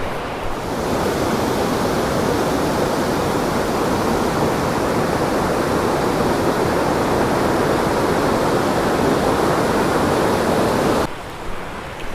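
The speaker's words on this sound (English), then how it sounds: "So you go from places where The water's just straight rapids" Rapids on the Laurel River in Pisgah rush in a loud, continuous broadband roar of churning water that holds steady close by before dropping off abruptly at the end.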